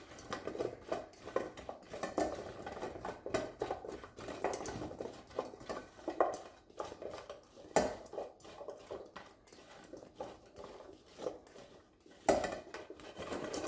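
Russet potatoes tossed with oil and spices in a bowl, a close series of irregular rattling, tumbling shakes with brief clattering peaks against the bowl, no talking.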